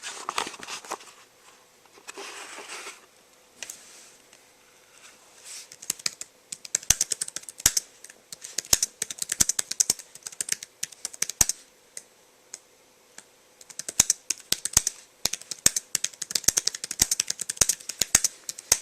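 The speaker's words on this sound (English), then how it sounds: "let's do some typing here." Someone types on a Lenovo ThinkPad 11e Chromebook keyboard, close and fairly quiet clicking that starts sparse and becomes a fast, steady rattle of keystrokes.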